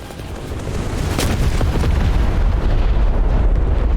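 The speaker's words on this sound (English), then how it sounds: "We're about to crash." A plane crashes and explodes in a video game, a sudden loud boom swelling into a sustained rumbling roar that lingers for several seconds.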